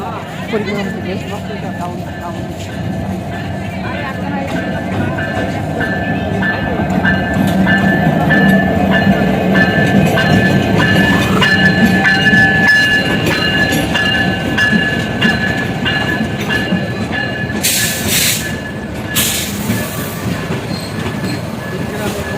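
A passenger train arrives at a station, rumbling steadily nearby with rattling carriages, brief high squeals near the end, and people talking over the noise.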